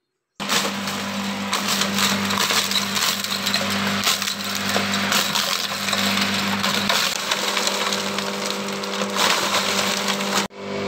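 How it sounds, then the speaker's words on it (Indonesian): A chopper machine grinds noni leaves, producing a loud, continuous motor roar with rough, splintering crunch that starts abruptly, holds steady for about ten seconds, then cuts off; no voices are heard. "Akan Kang Sigit giling dulu ya, pakai mesin chopper."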